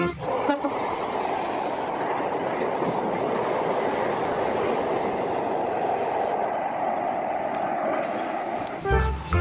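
A toy high-speed train runs with a steady, continuous rolling rumble and rattle from start to near the end, fairly loud and close, before it briefly stops.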